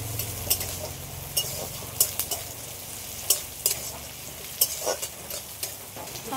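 Chopped onion and slit green chillies fry lightly in a pan with a low, continuous sizzle, punctuated by sharp taps and scrapes of a spatula stirring at a steady pace, close up.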